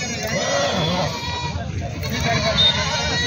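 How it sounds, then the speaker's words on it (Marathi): Native village goats bleating at a large goat and sheep market in Maharashtra, several bleats close and loud amid crowd noise and chatter. "संपूर्ण गावरान शेळ्या आहेत."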